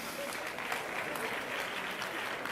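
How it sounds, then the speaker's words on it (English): An audience at a European political gathering against the far right applauds, a dense, even wash of many clapping hands held steady at a moderate distance. "We can give a big applause to Franz."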